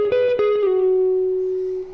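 An electric guitar plays a measure from a solo: a few quick picked notes, a slide, then one long sustained note ringing out alone and slowly fading.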